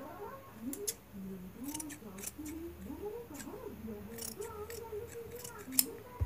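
Scissors snip through cloth while a dori ornament is made, a few sharp close cuts scattered over steady speech.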